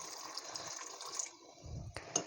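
Water pours into a cooking pot of soaked pea and potato curry, a steady close splashing stream that tapers off midway, followed by a brief lower splash.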